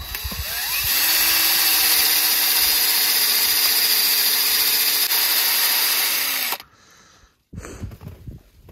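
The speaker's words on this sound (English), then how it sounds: "Guess it'd help if the drill was going the right way." A power drill bores a tap hole into a maple tree in a loud, steady, sustained whine lasting several seconds, then cuts off, leaving faint handling noises.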